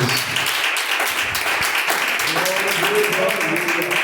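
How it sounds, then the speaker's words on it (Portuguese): A church congregation applauds during a Pentecostal service, a steady wash of many hands clapping that fills the room for several seconds, with voices mixed in beneath it. "Palmas para o nosso Jesus."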